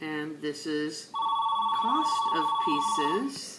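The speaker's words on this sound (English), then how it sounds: "Sorry about the phone ringing there." A telephone rings with a steady, sustained electronic tone running through most of the moment, while a person keeps talking over it about graph labels.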